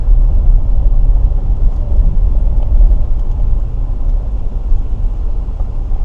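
Steady low rumbling engine and road drone from a Land Rover Range Rover L322 climbing a hill in low range, continuous and close with no clear gear changes.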